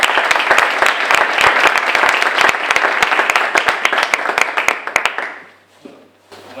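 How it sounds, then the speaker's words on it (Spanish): Strong, close applause fills the room at a Spanish book presentation, sharp individual claps standing out in the crowd before the clapping thins and fades away near the end. "os pido un fuerte aplauso."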